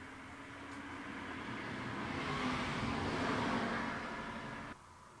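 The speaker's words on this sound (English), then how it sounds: "Comes a car." A car passes outside an abandoned house at night, a faint hiss that swells to a broad whoosh and then fades, ending with an abrupt drop in level, with no voices.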